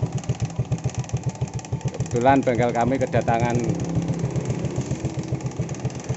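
Suzuki Shogun 125 motorcycle with an ignition fault idling in a workshop, a close, steady low pulsing throb throughout while someone talks over it.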